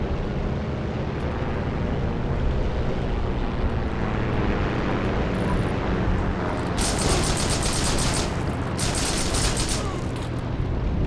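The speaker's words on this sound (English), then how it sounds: "Nice airplane." A propeller airplane drones past overhead in the World War II shooter game Heroes & Generals, its steady roar blending with continuous gunfire and battle noise, loud and close throughout.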